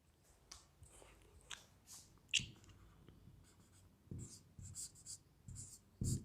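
Chalk or marker writing on a board during a reasoning lesson, heard as faint, scattered strokes and taps with quiet gaps, no speech over it.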